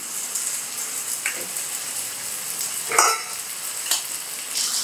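Small peeled, finely chopped potato pieces go into a pan of vegetable kurma, producing a continuous close sizzle broken by a few sharp clatters and scraping strokes.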